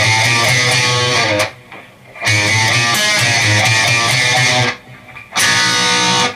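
Electric guitar plays the accent-chord part of a song: loud, sustained distorted chords in three bursts separated by brief pauses, played alone with no talking.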